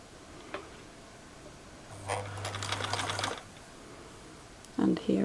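A sewing machine stitches a jumpsuit seam at a longer stitch length in one fast whirring burst of about a second and a half, set between quiet stretches with a short voice at the end.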